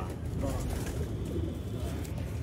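Domestic pigeons of an old, rare chuha breed coo in a loft, a steady low murmuring that runs throughout, mixed with a person talking.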